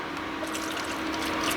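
Beef broth pours into a pot of tomato sauce as a steady, close liquid splash and trickle lasting a moment, with no talk.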